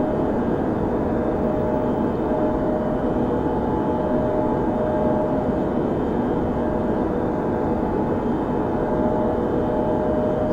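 Captain Sim 757 jet engines in FSX during takeoff and climb-out at night, a steady, loud broadband roar with a constant whine that holds unchanged throughout, with no talk.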